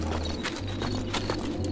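Steady rhythmic hoofbeats of a horse at a trot in the video game Red Dead Revolver, clip-clopping continuously over a low droning background.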